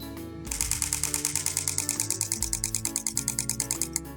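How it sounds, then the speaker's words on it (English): Canon M50 mirrorless camera shutter firing in a continuous burst, a rapid, steady train of about thirty crisp mechanical clicks heard up close with no talking. "And you can hear the M50 is just continuing to fire."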